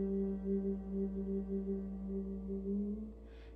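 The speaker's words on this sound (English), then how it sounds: "But probably one of the best breaths in yoga is to use the humming bee breath. When we literally make the sound of the humming bee," A person hums steadily in yoga's humming bee breath (bhramari pranayama), a low sustained drone with gentle pulsing swells that holds for about three seconds and then fades, heard alone.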